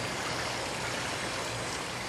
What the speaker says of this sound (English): Rinsing into the pan.